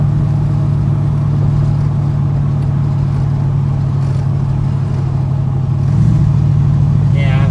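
A slammed 1977 Chevy C10 Squarebody truck with a 400 HP engine and a 6-inch lowering kit cruises on a bumpy road, its loud, steady engine drone filling the cabin throughout and swelling slightly near the end.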